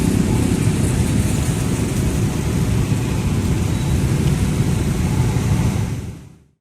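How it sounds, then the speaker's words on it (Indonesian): Morning drizzle in Pontianak, a steady, dense wash of rain noise with a low rumble underneath, holding constant before fading out at the very end. "Pagi-pagi udah gerimis di Pontianak."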